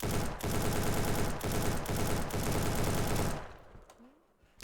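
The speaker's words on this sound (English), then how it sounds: "I'll try not to talk when I'm shooting because it might be a little bit too loud" A rifle in an indie video game fires in rapid automatic bursts, loud and continuous for about three seconds, then cuts off, leaving faint room noise.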